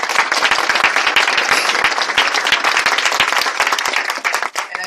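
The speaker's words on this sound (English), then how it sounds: "Let's give him a round of applause." An audience at a public event applauds Governor Christie, with dense, vigorous clapping that carries on steadily and loud, then thins slightly near the end.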